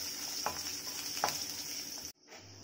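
Peeled garlic cloves sauté in a pan with a soft, steady sizzle and a couple of spoon scrapes, then the sound cuts out near the end.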